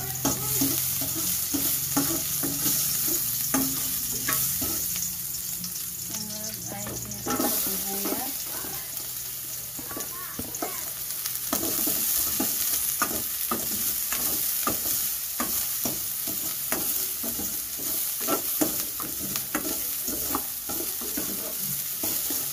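Ginger sautéing in a pan for Cebuano beef-skin balbacua, with a steady sizzle and repeated stirring scrapes throughout, close and continuous.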